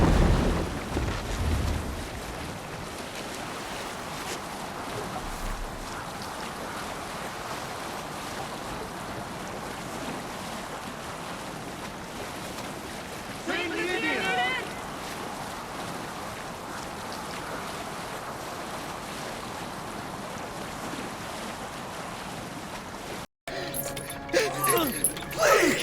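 Viking longship under sail in Assassin's Creed Valhalla: steady wash of waves and wind around the hull runs throughout, with a brief creak or splash midway and a short break near the end as voices begin.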